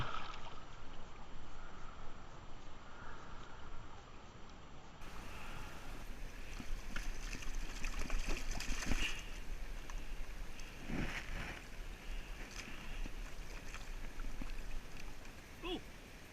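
Gravel and water swirl in a gold pan in a continuous wet washing rush, with occasional gritty scrapes and splashes, steady and close over outdoor wind.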